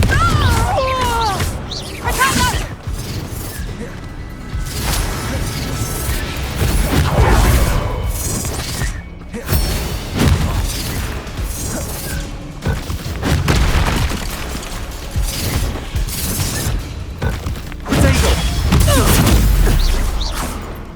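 Hogwarts Legacy duel as the Confringo blasting spell lands, with heavy booming explosions and crashing impacts swelling and fading across the scene, mixed with shouted voices and battle noise.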